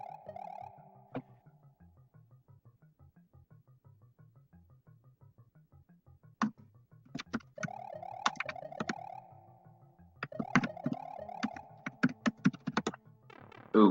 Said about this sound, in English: Sorry about the furious typing.